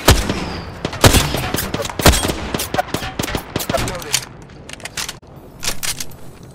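Rapid video game gunfire crackles through a firefight, dense bursts of close, sharp shots with short pauses, tapering slightly toward the end.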